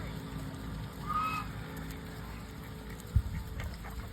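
A few short quacks from ducks at a zoo on an army camp in Kanchanaburi, Thailand, rise briefly over steady outdoor background noise, followed by a single dull thump.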